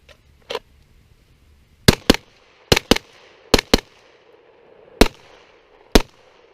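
Glock 19 compact pistol firing, eight sharp, loud, closely spaced shots in small bursts with brief pauses between them, each crack followed by a short decay and nobody talking.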